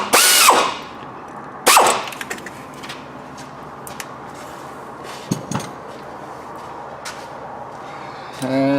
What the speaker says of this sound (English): And we're just going to tighten this nut down good and tight.